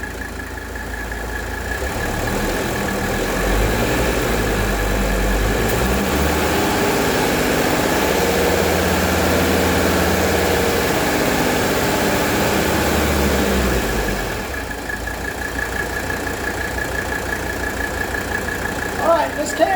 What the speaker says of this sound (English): I just heard the compressor kick on.